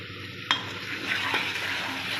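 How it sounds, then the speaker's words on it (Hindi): White cumin seeds tipped into hot oil burst into a sudden sizzle that holds as a steady, close crackling hiss, with occasional faint clinks. "इसके अंदर देखें जीरा वाइट जीरा डालना है।"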